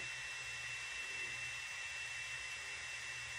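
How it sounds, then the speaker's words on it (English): A hair dryer blows cool air over a wig while set at 360 heat, giving a steady, even whoosh with a low motor hum that runs unbroken and fairly faint. "she's on 360 heat, but she is also blowing cold air"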